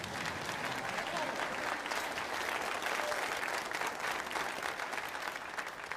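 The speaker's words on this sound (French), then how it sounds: "Applaudissez celui que vous connaissez tous" Continuous crowd applause welcoming someone on stage at a football-related event, dense and even, heard from a moderate distance with no clear talk over it.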